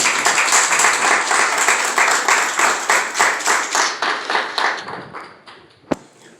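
Applause from the audience at a clergy council's holiday brunch: steady, rhythmic group clapping that is loud at first, then thins and fades, ending with a single sharp tap.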